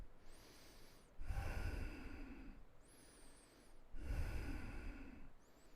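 Slow, deep yoga breaths come close and audible, with two long inhale-exhale cycles forming a soft rhythmic rush of air, and no talking.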